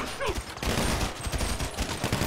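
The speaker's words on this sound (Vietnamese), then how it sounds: "Nãy giờ nó bắn bồ tôi" Loud, dense gunfire from unsilenced weapons in a GTA 5 zombie apocalypse mod, a continuous crackling fusillade of rapid shots filling the whole stretch.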